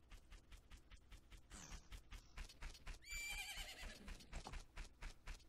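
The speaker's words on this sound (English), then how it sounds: "Isn't that your horse?" A video game horse in Zelda: Majora's Mask whinnies loudly in the middle, a rising, quavering neigh, amid steady rhythmic hoof clops on hard ground.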